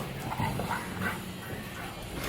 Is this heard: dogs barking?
yes